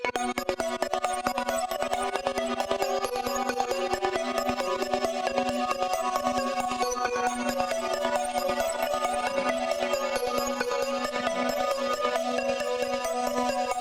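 Layered synthesizers hold a sustained, shimmering ambient chord, with a steady drone beneath and bright tones drifting on top, no voices.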